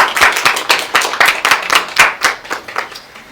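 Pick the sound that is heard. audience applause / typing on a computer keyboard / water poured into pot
audience applause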